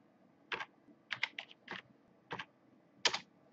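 Keys on a computer keyboard clatter in short bursts at close range, with single taps and quick clusters separated by pauses in an otherwise quiet room.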